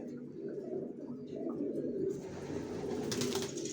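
Racing pigeons coo softly and continuously, several birds close together in a low, rolling murmur with light rustling.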